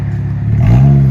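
A 2017 Dodge Challenger 3.6L V6 fitted with Dynomax Race Bullets exhaust revs up once from a deep idle, the smooth exhaust note rising and holding, loud and close.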